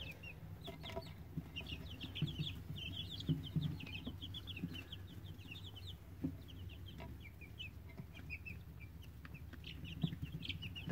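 Chickens, including a rooster, cluck softly and repeatedly in a calm farmyard, with scattered bird chirps and a low steady background hum.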